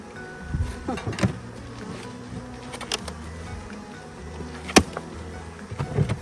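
Honeybees buzz around a beehive in fall, close and agitated, a steady droning hum with individual bees zipping past the microphone in sharp passes.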